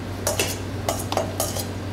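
Salad with crumbled feta cheese and torn mint leaves being tossed in a bowl with utensils, a few close clinks and scrapes of metal on the dish spaced over a quiet background.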